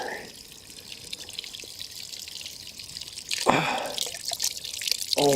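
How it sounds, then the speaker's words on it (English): A mountain spring on the Knob Mountain loop in Shenandoah National Park trickles and drips softly at first, then splashes louder and closer as the water is approached; no speech. "Here's the spring here. Nice flow."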